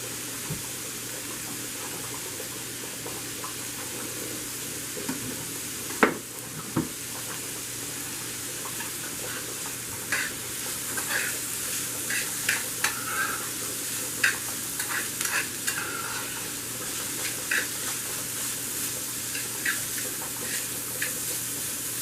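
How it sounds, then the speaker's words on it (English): Onions and vegetables sizzle and crackle steadily in a pan, with a soft continuous hiss and scattered small pops and occasional scraping stir sounds. "Let them fry for a little bit before I add the hamburger to it."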